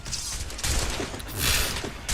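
Ship cannons fire in the Assassin's Creed Rogue video game, a few heavy booming blasts with rumbling tails that come close together in a short burst.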